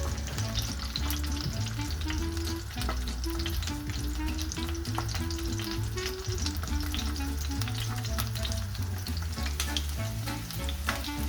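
Smoked pancetta fries in a pan over low heat, giving a continuous close sizzle with occasional stirring scrapes and a low hum of kitchen background throughout.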